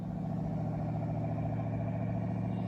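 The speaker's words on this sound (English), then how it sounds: "Look at that car running." A 1970 Ford Galaxie engine runs at a steady idle, a low, even droning rumble with a faint regular pulse, continuous and close, with no voices.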